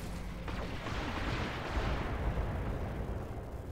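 Mech weapons unloading in a full alpha strike in BattleTech, a dense continuous roar of heavy booming fire and rumbling blasts, loud and close, with no talk.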